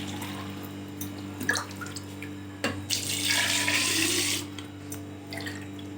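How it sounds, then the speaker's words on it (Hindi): Water runs from a tap into bottles being filled, with a rushing stream that swells for a couple of seconds, plus scattered drips, clinks and handling noises over a low background hum. "ये बोतल भर भर रखे जाओ, पी ले हैं बस"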